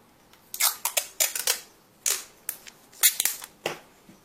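Adhesive tape is pulled and wrapped around a paper Famas gun in a series of sharp, close crackling rips, some short and some longer, with brief pauses between them.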